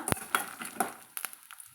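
A utensil scrapes and clinks against a pan as urad dal is stirred and roasted for jeera lemon rice, with a few quiet, separate metallic taps and scrapes at close range.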